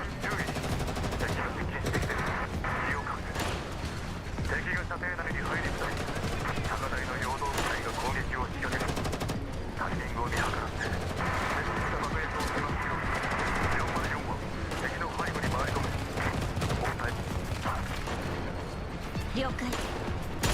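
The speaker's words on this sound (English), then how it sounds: "followed by the vicious burst of gunfire" Dense, continuous gunfire from the video game Girls' Frontline 2: Exilium, with rapid bursts and machine-gun rattle that stay loud and unbroken for the whole stretch.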